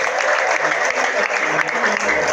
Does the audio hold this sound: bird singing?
no